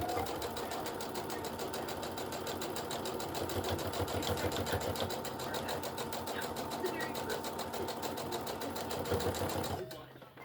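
Home sewing machine stitching fabric for period bags at a long stitch length: a fast, steady mechanical whirring chatter, close and continuous, stopping abruptly near the end.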